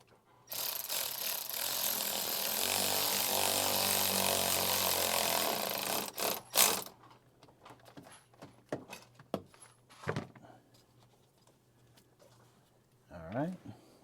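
A socket wrench ratchet clicks rapidly and continuously tightening a bolt during a charge pipe install on a 2025 Ford Explorer ST, then slows to scattered clicks and clunks of the tool being handled nearby.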